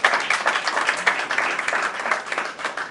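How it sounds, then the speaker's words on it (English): Audience applause at an annual climate crisis and sustainability event, a busy, continuous patter of many hands clapping at moderate loudness with a few louder individual claps. "Let's give a round of applause."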